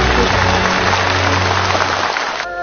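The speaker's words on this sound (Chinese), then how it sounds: "我们也把掌声送给您" A studio audience applauds in dense, continuous clapping that fills almost the whole stretch and then cuts off near the end, where a faint voice or tone follows.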